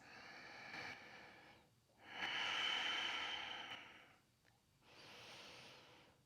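Slow, deep breaths during strength-building yoga practice, three long airy inhales and exhales separated by brief pauses, close and fairly soft, with no talking.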